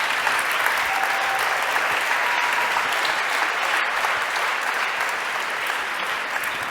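Sustained audience applause for award winners at a media awards ceremony, dense steady clapping from a large crowd filling the room without letting up.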